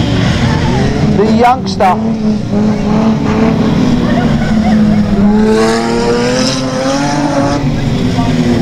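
Rear-wheel-drive dirt rod race cars at Stansted Raceway roar loudly and steadily, engines holding a rising and falling drone as they pass, with a commentator talking over the noise.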